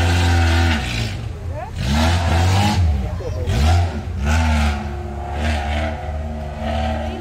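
A 29-year-old Opel Calibra at a vintage car contest in Brăila, Romania, revs loudly in repeated surges and drops, while a commentator speaks over the engine.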